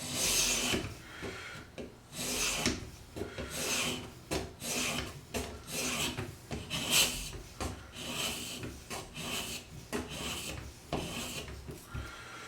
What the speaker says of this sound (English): Starting with my 600 grit Edge Pro Waterstone.